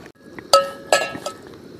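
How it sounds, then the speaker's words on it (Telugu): Metal pan lid clanks down twice onto a cooking pan of frying fish curry at a riverside campsite, each sharp clink ringing briefly over a low outdoor hiss. "అది మూత వేసేదండి"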